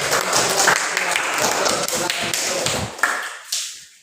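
A class of students clapping their hands together in a classroom, a dense, steady patter of many claps close by that thins out and fades over the final second.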